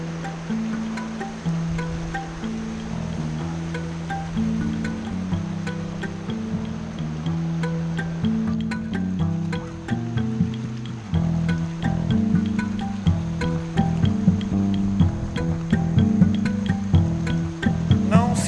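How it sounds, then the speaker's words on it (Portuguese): Water rushing through a natural rock drain near waterfalls at Capão da Onça, Ponta Grossa, a steady close wash of flowing water under a sung melody. "um ralo natural, a água desce por aqui, sai ali de baixo"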